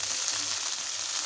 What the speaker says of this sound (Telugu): పుదీనాను ఇలా మధ్య మధ్యలో కలుపుతూ బాగా ఫ్రై చేసుకోవాలండి